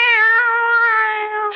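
A cat meows in a radio drama, one long drawn-out tonal meow held for over a second, close and clear with no talk over it.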